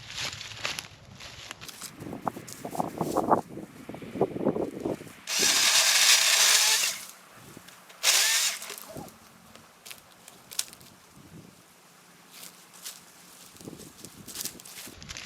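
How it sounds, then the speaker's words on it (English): Pole saw attachment on a weed whipper cutting tree branches outdoors, with a loud sustained motor burst of about two seconds and a shorter burst afterward, between quieter rustling, snapping and mechanical clicks. "It's a pole saw."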